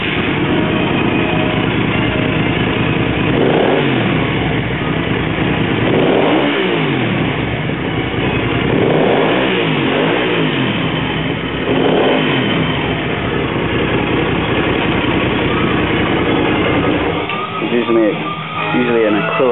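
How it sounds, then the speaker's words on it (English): A Hyosung GV250 Aquila motorcycle with aftermarket sports exhaust pipes is revved hard five times in a row, each loud throttle blip rising and falling back to a rumbling idle, followed by a final low burble. "I'll crank up the engine so you can have a listen."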